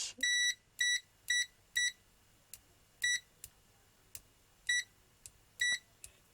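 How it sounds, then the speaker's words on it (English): Continuity buzzer of an Aneng AN8002 digital multimeter giving a series of short, clear electronic beeps of uneven length and spacing, some brief chirps and some held longer, close up in a quiet room. "will it make buzzing noises? Do we have to select buzzer?"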